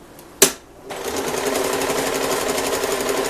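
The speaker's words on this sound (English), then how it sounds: "lift our presser foot, turn it, sew across the bottom, go back into the seam on the other side," Sewing machine stitching a dress shirt apron: a sharp click, a brief pause, then a steady fast mechanical whirring hum of continuous stitching, close and alone.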